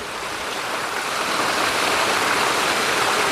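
Clear mountain stream water flowing down from Mt. Makiling near Sto. Tomas, Batangas: a steady, close, full rushing and splashing wash that swells slightly louder toward the end, with no talk.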